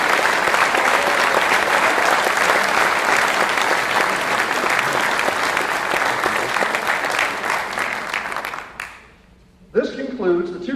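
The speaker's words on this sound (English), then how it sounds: "Please join me in a final round of applause for all of the 2025 competitors" Sustained applause from a large audience at a military awards ceremony fills the space, then fades out, and a voice begins speaking afterward.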